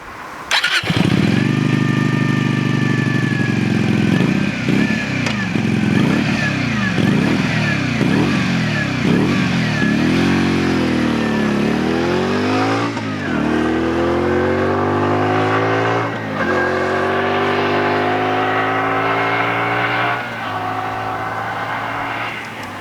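A 2023 Keeway RKV125 motorcycle ridden on the road in poor weather, its loud, close engine climbing repeatedly through short rising revs between gear changes, then settling into longer, smoother pulls with steady wind noise underneath.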